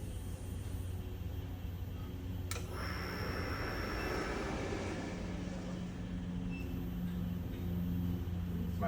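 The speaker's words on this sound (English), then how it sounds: "The ball screws sound really, really nice." Ball screws driving the axes of a 2014 TRAK SWI DPM SX2P three-axis CNC bed mill, a low steady mechanical whir with a sharp click partway and a rising whine, no talk.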